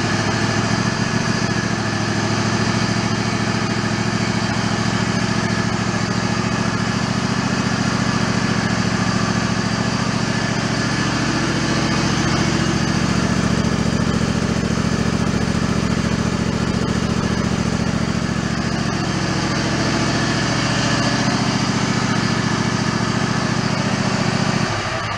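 A lawn mower engine with the choke off runs loud and steady for the whole stretch, a continuous close buzzing drone that barely changes, with no one speaking.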